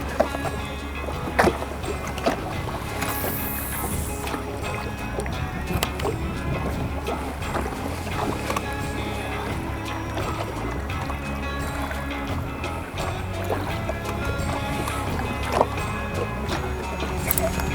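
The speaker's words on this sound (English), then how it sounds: "this wind I think is making the audio hard to hear" Wind rushes steadily over an open-water walleye fishing boat, a broad continuous roar with low buffeting and scattered knocks and clatter throughout, with no talking.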